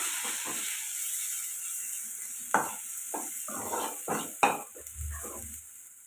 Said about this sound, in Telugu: ఒక నిమిషం పాటు ఫ్రై చేసుకుందాం